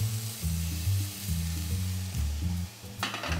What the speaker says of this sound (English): Time to get our wonderful steaks in now.